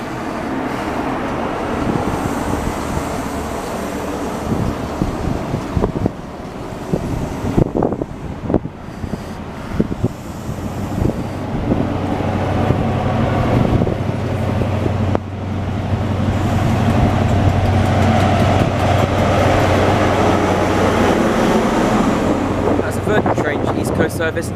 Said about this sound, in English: Now departing is a Virgin Trains East Coast service HST to Leeds.